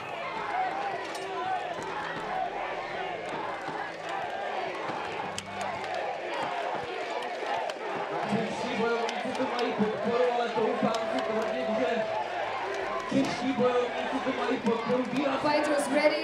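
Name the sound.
crowd at Battle of the Nations fight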